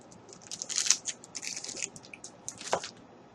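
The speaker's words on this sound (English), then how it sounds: "oh my gosh, I can't stop chewing." Someone chews a crunchy protein bar close to the mic, with irregular crisp crunches and soft wet mouth sounds over a quiet background.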